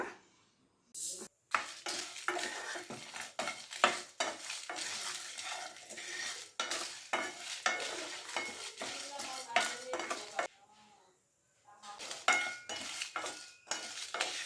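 Spice ingredients for bisi bele bath are dry-roasted in a pan, with a spoon scraping and clinking against the metal in quick, busy strokes and a short pause partway through.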